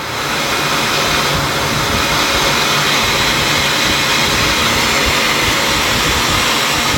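Media blasting a Ferrari wheel produces a loud, continuous hissing roar of compressed air and grit, steady and unbroken throughout at close range.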